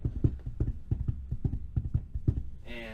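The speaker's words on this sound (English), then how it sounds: "You start to hear some like hoof print, like hoofs walking around." An unseen animal's hooves walk around, giving a run of about a dozen soft, evenly spaced clip-clop thuds, faint and close, ending in a brief tonal burst.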